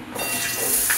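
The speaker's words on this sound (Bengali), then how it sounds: "তেলেতে আলু আর পটলটা ভাজা হবে" Potato and pointed gourd slices hit hot oil in a pan, setting off a loud, dense, steady sizzling hiss close by that lasts the whole brief moment with no talk.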